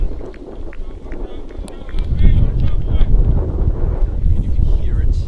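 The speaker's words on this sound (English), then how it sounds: "And you can hear it. It is a windy day." Steady wind roars across the microphone at an outdoor cricket ground on a windy day, a continuous rumbling buffet with faint scattered crowd noise.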